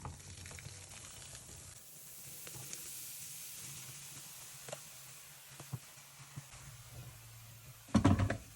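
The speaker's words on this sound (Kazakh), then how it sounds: "Енді үстіне қайнап тұрған суды құямын." Boiling water poured over bleach powder sprinkled on stained rags gives a soft continuous fizzing hiss as it foams, fairly quiet, with a brief louder clatter near the end.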